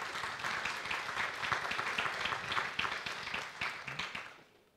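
Conference audience in a keynote hall gives sustained applause, a wash of many hands clapping at moderate distance, slowly thinning and fading out at the close.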